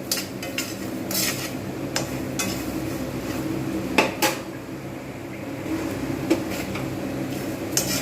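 Whole coriander seeds roasting in a pan over medium heat, stirred with a utensil that clinks and scrapes against the metal in irregular sharp taps over a steady low background.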